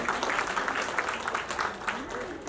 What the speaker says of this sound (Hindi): हम चाहते हैं आप सभी इनका जोरदार तालियों से स्वागत करें, सम्मान करें